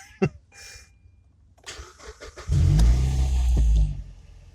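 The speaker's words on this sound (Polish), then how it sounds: "Tak, silnik pracuje." A 2010 Mazda 6 is cranked and fires up close by, a few clicks and a short starter whirr before the engine catches with a loud rev and settles into a steady run.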